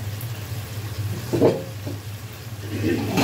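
Masala for a hilsa fish curry with Malabar spinach fries in oil, giving a close, steady sizzle with a few stirring scrapes and soft clinks.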